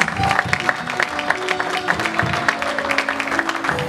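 A church congregation claps steadily to welcome pastors at an ordination service, a dense indoor round of applause with faint voices underneath.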